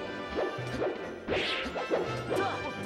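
Forward smash hitting a shield in Super Smash Bros. Melee, Marth versus Marth: sharp game impact cracks and whacks, several quick hits in succession over busy match sound effects, no talking.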